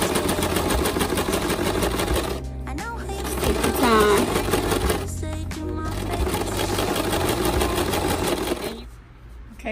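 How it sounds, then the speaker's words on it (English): A sewing machine stitches down the waistband of a pair of pink pants, a steady rapid mechanical whir running almost continuously with a couple of brief pauses, close and fairly loud. "So we're just sewing down the waistband now."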